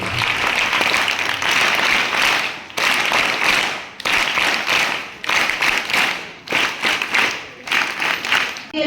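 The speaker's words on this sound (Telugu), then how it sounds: "సార్కి మన పాఠశాల క్లాప్స్ ద్వారా ధన్యవాదాలు తెలియజేసుకున్నాం" Schoolchildren at a village high school in Murikipudi clap for a visiting guest, a dense, loud, continuous crowd applause that comes in several sustained bursts separated by brief pauses.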